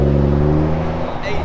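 A JDM car pulls away at a pop-up car meet, its engine note steady and close, then easing off as it drives off, with people talking over it.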